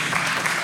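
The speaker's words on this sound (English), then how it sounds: "Appreciate the applause" A brief burst of audience applause, steady clapping at moderate volume, lasting under a second with a voice rising at the very end.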